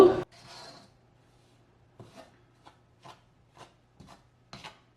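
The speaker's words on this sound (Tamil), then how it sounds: "கைவிடாமல் கிளறி கிளறி வறுத்துருங்கோ" Puttu flour is dry-roasted and stirred in a pan over medium heat, giving a series of short, dry scraping strokes about every half second. It starts with a brief louder rustle, then the strokes come softly, close by, with no talk.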